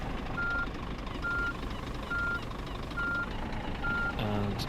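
A truck backing up in On The Road Truck Simulator on PS5, its reversing alarm beeping five or six times at an even pace over a steady engine drone, with no talk.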